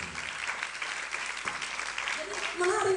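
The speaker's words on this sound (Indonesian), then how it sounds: "Tepuk tangan buat Mr. Kemal dari Tinggi." A crowd at a rally meeting applauds with dense, steady clapping that swells slightly toward the end, while someone talks over it.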